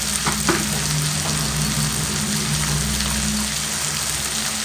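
A spoonful of ground cumin frying in hot oil for a Bengali mixed dal tarka, a close, dense and continuous sizzle with a couple of brief stirring clinks near the start.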